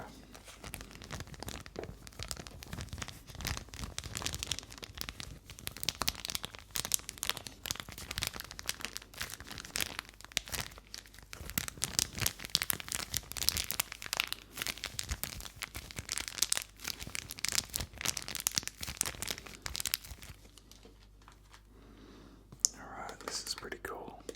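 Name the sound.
plastic wrapping crinkling as it is removed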